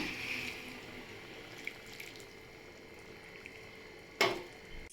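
Filtered jaggery water poured into cooked raw mango for mango pachadi, a soft continuous trickling and splashing, close and quiet, ending with a brief louder splash or clink.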